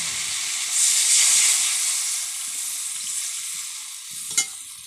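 Spiced small fish frying in a pan after a splash of water, giving a steady loud close sizzle and hiss that swells briefly, with a single clink near the end.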